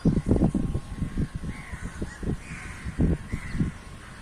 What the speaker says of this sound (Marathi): सकाळची बघा पक्षी बघा